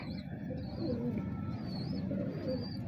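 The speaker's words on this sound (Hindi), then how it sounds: "ये बटेरा कबूतर है" Soft, low coos of a Bateri pigeon repeat in a gentle rhythm, close by, with faint chirps and ambient noise around them; no talking.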